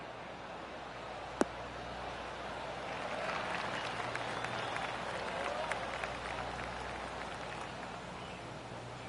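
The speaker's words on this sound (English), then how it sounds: "Oh, golf clap." A gallery crowd in the golf video game PGA TOUR 2K23 gives a polite golf clap, a light, moderate patter of applause rising and holding steady, with a commentator talking over it.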